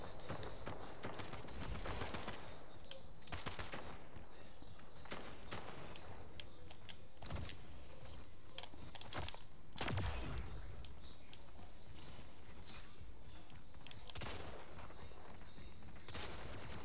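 Gunfire in the video game Splitgate rings out as repeated sharp shots in irregular clusters at moderate volume, with some quick bursts and scattered single reports and no talking.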